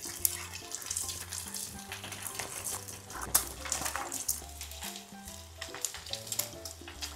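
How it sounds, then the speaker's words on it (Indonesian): Steady crackling sizzle of battered shrimp fritters frying in shallow oil, continuous and close, with a low hum underneath and no voices. "Ini kita coba goreng ya teman-teman. Di minyak yang sedikit."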